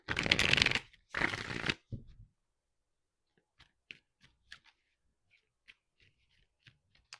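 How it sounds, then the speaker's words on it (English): Two quick bursts of tarot cards being riffled and shuffled up close, followed by quiet scattered taps and soft clicks as the cards are handled. "Three shuffles."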